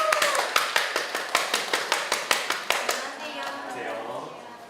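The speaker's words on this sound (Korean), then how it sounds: "뜨거운 박수로 모셔보겠습니다." Evenly spaced hand claps ring out close and sharp at a Cheongju National University of Education alumni interview event, an audience welcoming three teachers, then fade into a softer wash of scattered clapping.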